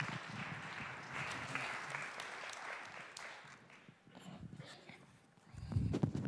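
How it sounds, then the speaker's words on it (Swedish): Audience applause at a talk held at the Swedish embassy marking Israel's 75th anniversary, a steady wash of clapping from a full room for about five seconds that fades, then swells again with some louder nearby claps. "Ger Erik en applåd."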